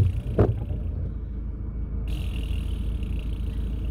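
Campervan driving along a road in fog, a steady low engine and road rumble heard from inside the cab, with a brief knock near the start and a faint higher whine joining partway through.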